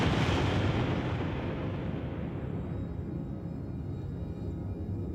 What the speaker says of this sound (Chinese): 一个温度高得不可思议的能量起点突然爆裂